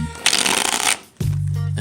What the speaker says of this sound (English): Let's do a public shuffle here.